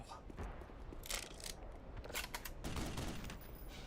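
Tau Cannon fire in the game Black Mesa: several sharp crackling energy shots in quick bursts with mechanical clatter, heard at moderate level over game ambience.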